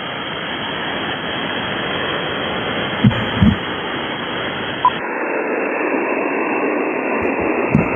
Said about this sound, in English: I got an S6 of noise.